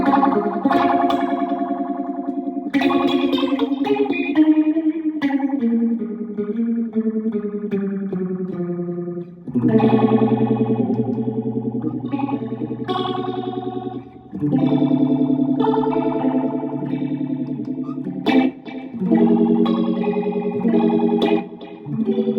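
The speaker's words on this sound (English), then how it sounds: "So now you're going to get a really outer space ray gun kind of sound" StewMac Lightcycle Phasor II pedal on an electric guitar with depth and feedback turned all the way up, giving a loud, continuous sweeping whoosh like a sci-fi ray gun over sustained chords and picked notes.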